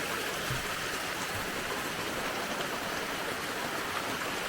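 A small spring-fed creek spills over a little waterfall beside a fern-lined trail under old beech trees, giving a steady, close, even rush of flowing water with no voices.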